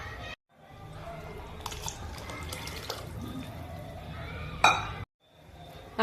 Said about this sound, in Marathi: आता मी यामध्ये गरजेनुसार पाणी ऍड करते